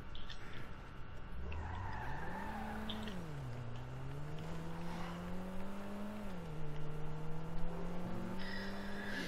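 A car in GTA V Online revs with a rising and falling engine whine while its tyres skid and squeal, steady and fairly close against a busy game background.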